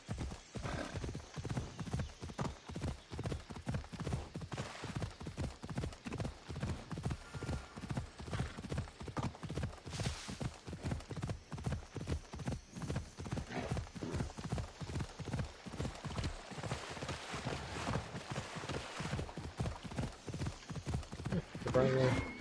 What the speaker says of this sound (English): Surprisingly, the horse does look pretty good.